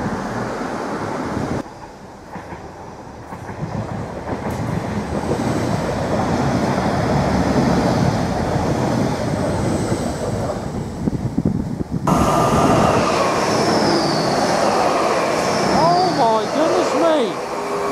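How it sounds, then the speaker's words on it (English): Two class 755 FLIRT multiple units rush past at speed near the Felixstowe line, making a loud, sustained roar with wind buffeting the microphone, followed by rising tonal whines as the train clears. "We've just had two class 755 FLIRT units in multiple charge through at speed."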